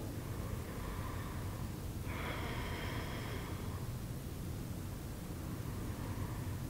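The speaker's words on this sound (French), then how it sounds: "Encore 2 respirations." Slow, deep breathing during a beginner yoga stretch with the right leg extended, a soft airy inhale and exhale rising and falling over steady background hiss, with no talking.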